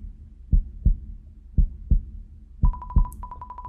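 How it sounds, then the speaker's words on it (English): A heartbeat in the Horrortale video game: loud, low thumps come in evenly spaced double beats, and partway through a steady electronic tone pulses alongside them. "The heartbeat."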